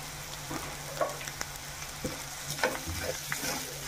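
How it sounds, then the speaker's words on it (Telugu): Spices and split green chillies being stir-fried for egg curry, with soft sizzling and intermittent scraping of a spoon against the pan, fairly quiet and close, no talking. "ఇవన్నీ బాగా ఫ్రై చేసుకోవాలి."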